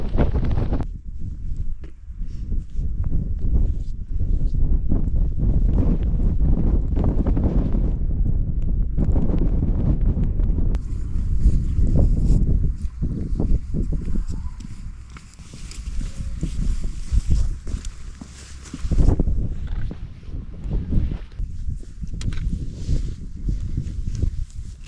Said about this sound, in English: A big difference, that wind, isn't it? Not half. Yeah. Cutting wind.